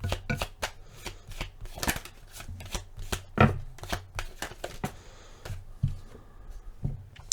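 Tarot cards are handled, shuffled and drawn for a reading, a close series of crisp papery flicks and riffles in irregular rhythm with short pauses, no talk.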